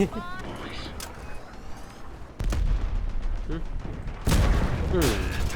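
Executioner 88mm cannon in the vehicle combat game Crossout firing two heavy, booming shots a couple of seconds apart, each followed by a rumbling tail, with someone talking throughout.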